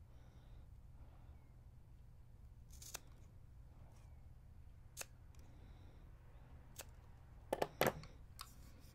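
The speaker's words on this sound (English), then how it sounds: "just make sure those two lengths are pretty much the same, and then you can snip off" Scissors snipping off excess macrame cord, a few quiet sharp clicks with a quick cluster of cuts near the end over low room hum.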